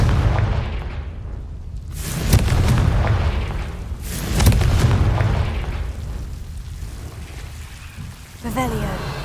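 Spell explosions from Confringo cast in Hogwarts Legacy on PS5, a series of heavy booming blasts with rumbling tails, the loudest bursts near two and four seconds, over continuous game ambience.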